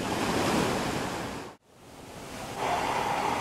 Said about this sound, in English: there was a huge swell from the north, which created these big waves at the baths.